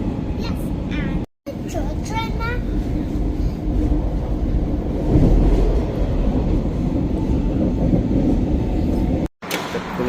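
A train ride in Helsinki, with a loud, steady rumble and rail noise filling the cabin and a brief sharp squeal near the start. People talk now and then over the running train.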